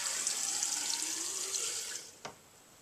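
Resin-laden isopropyl alcohol pouring steadily from a bottle into a graduated cylinder, a close, continuous hissing trickle for about two seconds that then thins out, ending with one small splash.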